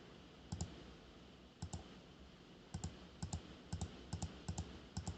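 A computer mouse clicks while working in Microsoft Word, with sharp, close, quiet clicks arriving in quick pairs, some spaced pauses between, over a faint background hiss.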